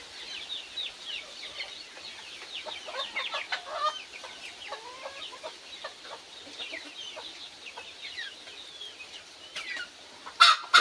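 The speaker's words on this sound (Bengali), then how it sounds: "এই যে এগুলো হচ্ছে টাইগার মুরগি" A flock of tiger chickens roaming free outdoors clucks and chatters in many overlapping short calls, moderately near, with a sharper burst close by near the end and no talking.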